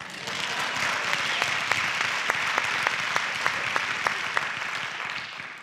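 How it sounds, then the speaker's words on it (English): Audience at an educators' keynote talk on struggling readers breaks into steady applause, a dense wash of clapping with a few sharp individual claps standing out, sustained at even loudness for several seconds. "That's always an applause line."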